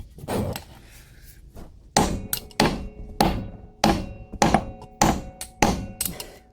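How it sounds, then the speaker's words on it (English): A small hammer taps the tie rod end on a backhoe, starting with a few scattered hits and then settling into a series of sharp, close metallic blows roughly every half second. "We'll get a nice small hammer."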